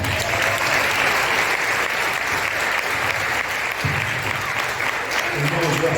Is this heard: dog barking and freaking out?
no